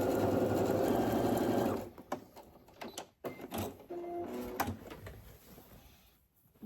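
A sewing machine stitches quilt patches together, running in a fast steady whir for about two seconds, then stopping, followed by quiet clicks and handling sounds of fabric and the machine.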